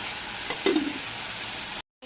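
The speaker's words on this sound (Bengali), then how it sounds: "এখন মাছের ঝোল করব তো এখানে মশলাটাকে কষিয়ে নিচ্ছি" Spice paste being fried and stirred in a pan for a fish curry: a steady, close hiss of frying with a couple of brief scraping stirs before it cuts out.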